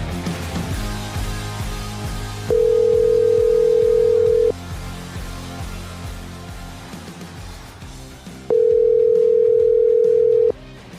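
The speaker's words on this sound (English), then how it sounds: "We're going to phone call him." A telephone dial tone sounds while a call is being placed, two loud steady tone bursts about two seconds each separated by a pause, over faint background music with no talking.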